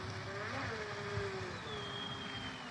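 A 25-inch stepped-hull RC boat motor runs on the water with low revs, a steady distant whine with faint pitch shifts heard alone.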